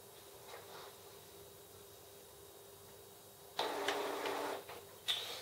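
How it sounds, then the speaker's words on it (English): Epson Expression XP-202 inkjet printer fitted with a continuous ink system running a nozzle check, a quiet steady hum with faint ticks, then louder sliding mechanical whirs and a sharp click near the end. "So I've told it to print a nozzle check test print."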